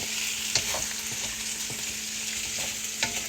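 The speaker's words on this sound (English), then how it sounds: "I'm stir frying it a little bit more longer than what they had" Pork adobo stir-frying in a pan, a steady close hiss of sizzling with occasional sharper crackles and scraping stirs.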